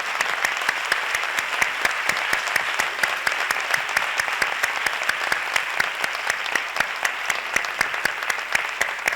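Steady audience applause fills a conference hall at a summer-course lecture in July 2023: dense, even clapping from many hands that holds at full strength throughout, with no voices over it.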